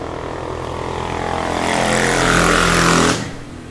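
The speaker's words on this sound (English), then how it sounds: "These motorbikes are so loud." A loud engine roar builds and sweeps past nearby, swelling to a peak before cutting away abruptly, like motorbikes passing close by.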